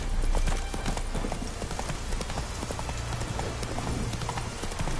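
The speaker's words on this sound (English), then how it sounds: "Whoa there, Roach" Horse hooves clip-clopping in The Witcher 3 video game, a steady rapid close trot that continues throughout, with a faint low rumble underneath.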